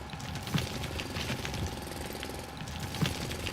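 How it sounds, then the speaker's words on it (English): A mining drill in the video game Foundry runs continuously with a rough, rattling, jackhammer-like mechanical drone, steady and fairly loud throughout, with a couple of heavier knocks. "The drill's really cool."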